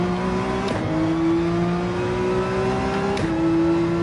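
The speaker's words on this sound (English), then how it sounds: "Ruining our hearing with his brakes as he slid by us and out" Race car in Gran Turismo 7 online racing braking hard and sliding past, a loud, steady engine drone with two brief abrupt breaks as it goes by close.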